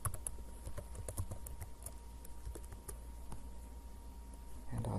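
Keyboard typing in a Houdini 3D software session, a steady run of light clicking keystrokes throughout, fairly close, under faint background hum.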